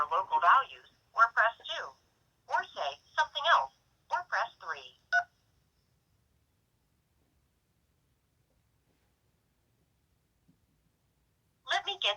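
An automated telephone menu speaks in short clipped phrases, then falls silent for several seconds before the recorded voice resumes, heard clearly as through a phone line.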